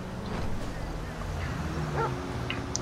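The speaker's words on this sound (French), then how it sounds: "je vais appeler mon chien" A police dog in GTA LSPDFR barks and yips in a couple of short, faint bursts over a steady low game hum, with a voice talking nearby.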